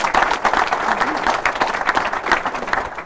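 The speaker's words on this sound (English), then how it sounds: "If we could give her a warm round of applause" An audience at a startup business talk applauds a speaker steadily, many hands clapping at once in a dense, sustained burst that stays loud throughout.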